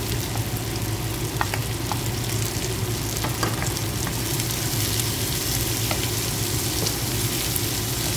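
Shrimp frying in a pan for pancit canton, a loud steady sizzle with occasional pops and stirring scrapes throughout.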